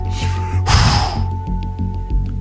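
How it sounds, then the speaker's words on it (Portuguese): A creature's heavy breath sounds, a sharp snort-like gasp followed by softer sniffing puffs, close and fairly loud over a low steady hum. "Quando ouvimos uma espécie de baforada,"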